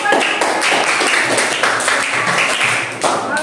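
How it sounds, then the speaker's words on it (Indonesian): A classroom of students applauds together, a dense steady patter of many hands clapping close by that carries on for several seconds and then tapers off. "Ya, tepuk tangan dulu."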